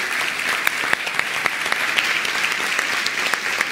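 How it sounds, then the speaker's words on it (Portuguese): An audience breaks into steady applause, dense and even clapping from many hands held at a constant level for a few seconds with no talk over it. "Uma salva de palmas para a Letícia."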